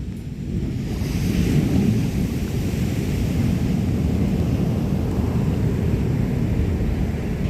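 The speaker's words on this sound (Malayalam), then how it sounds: "കടൽ ഭിത്തിയില്ലാത്ത ഭാഗങ്ങളിലാണ് രൂക്ഷമായി കടലാക്രമണം ഉണ്ടാകുന്നത്" Steady roar of rough sea surf breaking against an unprotected shore without a seawall at Tanur, Kerala, mixed with gusting wind buffeting the microphone, continuous and loud with no voices.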